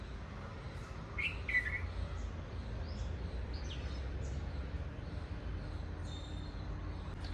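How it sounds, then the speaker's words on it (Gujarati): Birds chirp and tweet at a Sai temple, with brief high calls scattered over a steady low background hum and no talking. "કેમ કે મિત્રો આટલે પક્ષી પોપટનું ને એવું સુંદર અવાજ આવે ને આજે."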